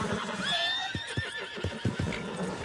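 A horse in Red Dead Redemption lets out a sharp, high whinny, followed by several hoof clops and thuds nearby.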